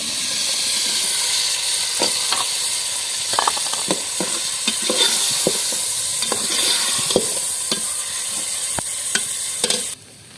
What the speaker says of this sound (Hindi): यहाँ दोस्तों हमने चिकन डाल लिया घी में।